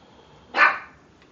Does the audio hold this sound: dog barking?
yes